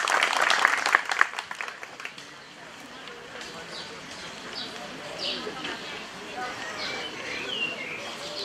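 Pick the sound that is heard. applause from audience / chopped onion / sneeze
applause from audience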